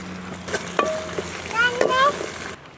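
Aloe vera sautéing in sesame oil in a pan, a soft steady sizzle with a few clinks and scrapes of stirring, close by, while a voice talks intermittently.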